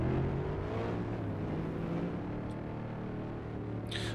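Simulated engine of a 2012 Cadillac Escalade ESV Platinum mod in Euro Truck Simulator 2, a steady low drone held at an even level while driving, with a brief hiss near the end.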